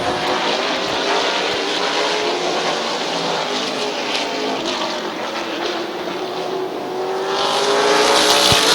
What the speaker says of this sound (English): White flag, lap to go for McCreary.